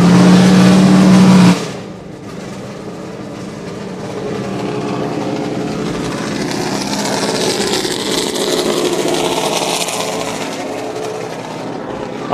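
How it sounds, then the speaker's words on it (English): A NASCAR No. 51 race car, driven by Justin Allgaier, idles and revs inside a garage area at Sonoma, a loud, steady engine roar that fills the space after a brief tone at the start. "Number 51 car of Justin Allgaier making all this noise here and all this racket here in the garage area"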